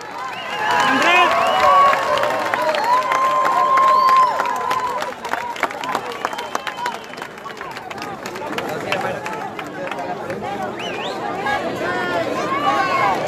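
An outdoor crowd on the Guaymas waterfront cheers, whistles and applauds to welcome López Obrador, a dense, loud roar of voices and clapping over a PA voice.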